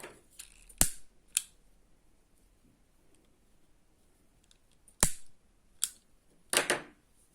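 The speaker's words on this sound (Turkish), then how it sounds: "Burada ipimi kesiyorum." Scissors snip through yarn in a crochet project, giving sharp, close clicks spread out across the clip: a couple early, then a cluster near the end, with quiet in between.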